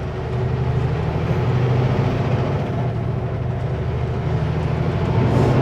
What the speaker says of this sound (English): Covering up her ears because my truck's so loud.